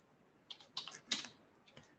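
Quick computer clicks, several crisp, close taps in small bursts with short pauses, quiet and alone with no talking.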